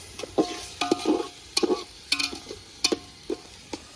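A spoon scrapes and clicks in a pan as ginger garlic paste is stirred into a frying onion and tomato gravy, with rhythmic knocking strokes over a faint sizzle and no talking.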